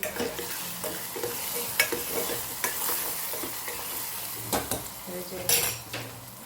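Spices such as sugar, coriander and cumin-coriander powder being stirred into tomato-based vegetables in a frying pan for Gujarati shaak, with repeated scraping and clinking of a spoon against the pan over a steady sizzle, close and clear.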